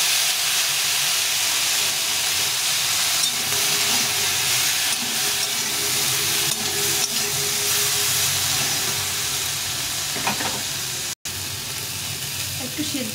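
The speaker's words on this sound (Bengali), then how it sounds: "এখন একটু হালকা করে জল দিয়ে দিব। জল দিয়ে সেদ্ধ করে নেব।" Greens seeds simmer in water in a cooking pot, giving a steady, even hiss and soft bubbling that runs continuously from start to finish at moderate level, with no break except one momentary dropout.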